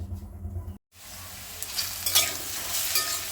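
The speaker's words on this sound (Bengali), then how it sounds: "আলুটা ভাজছি" Potatoes fry in a pan with a close, crackling sizzle that swells after a brief cut, broken by a couple of sharp spatula scrapes.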